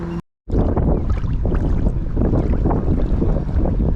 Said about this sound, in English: Got a pretty good headwind going on here.